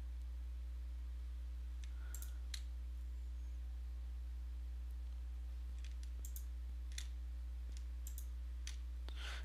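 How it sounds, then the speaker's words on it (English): A computer mouse clicks in a few sharp, quiet bursts while the control key is held, set against a low steady electrical hum in a quiet room. "I'm holding control on my keyboard while I click, so to open up a separate tab with each new image."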